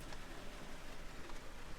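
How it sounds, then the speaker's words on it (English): Cold rain falls steadily around a truck, a dense, even hiss of drops with soft patters, moderately quiet and continuous, no voices. "That's some cold rain."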